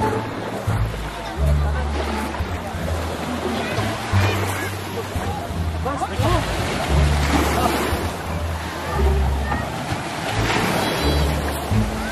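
Sea surf and wind by the shore as a fishing boat comes in, waves washing steadily with wind buffeting the microphone, while people talk over it.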